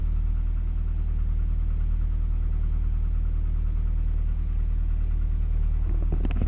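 A 1998 Mitsubishi Eclipse engine, wet and smoking, idles with a steady low rumble and slight vibration, continuous throughout, with a few faint clicks near the end.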